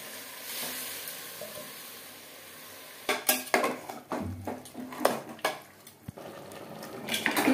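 Spices are stirred into an alu mutton curry of potatoes and goat meat in a pan: quiet sizzling gives way to irregular scraping and clanking of a spoon against the pan, growing busier toward the end.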